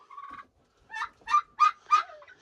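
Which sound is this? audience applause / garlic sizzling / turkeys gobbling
turkeys gobbling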